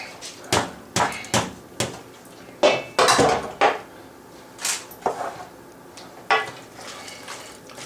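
Stuffed pork braciole being mixed around in sauce: a series of sharp clinks and clattering knocks of a utensil against a pan, spaced irregularly, close and fairly loud, with no voices.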